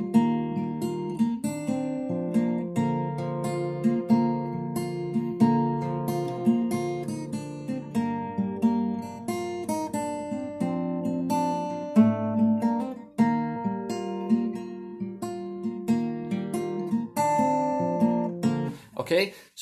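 Fingerstyle guitar plays a song with its melody woven in, steady plucked notes and chords continuing for the whole stretch, close and clear.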